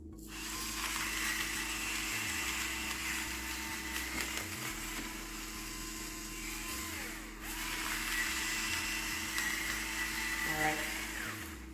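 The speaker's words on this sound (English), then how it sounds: "I have it on the very fine grinder setting. And I'm going to add some more black pepper." An electric grinder grinds black pepper on its finest setting, a close, steady, high motor whir that pauses briefly midway and then runs again.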